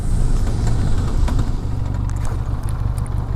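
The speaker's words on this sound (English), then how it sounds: "let's test the brakes. 100 kph, and let's stop right" A Benelli TRK 502 motorcycle brakes hard from 100 kph, the close engine and wind noise holding steady before the pitch drops into a lower, throbbing idle-like rumble.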